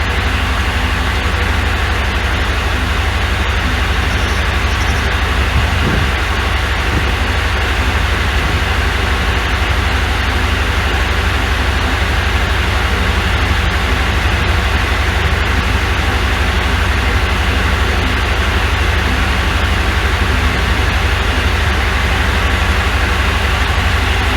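An antique Corley sawmill engine roars steadily at wide open throttle, a loud, dense, unbroken drone close by with no break or change in pitch from start to finish.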